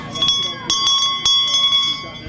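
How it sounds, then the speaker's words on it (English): A bell aboard a whale watching boat rings in repeated bright, sustained strikes, loud and close, while people talk over it. "Can I ring the bell?"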